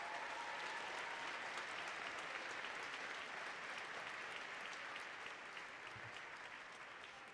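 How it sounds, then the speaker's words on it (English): Steady, sustained applause from a large commencement audience at a university graduation ceremony, even and continuous throughout. "Let's give her a round of applause."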